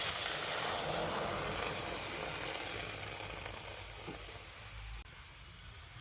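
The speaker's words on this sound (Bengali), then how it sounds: "কড়াতে এবার আমি এই জল সহ সাবুদানাটাকে দিয়ে দেবো।" Soaked sago with its water hisses and sizzles steadily in a hot wok, a loud continuous spitting hiss that drops slightly toward the end, with no talking.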